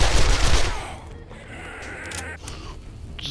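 Gunfire in the console version of 7 Days to Die, a loud burst of shots at the start that quickly fades into lower game ambience with a few faint later bangs.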